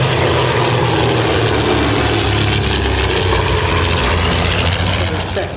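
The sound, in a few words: de Havilland Chipmunk propeller aircraft flying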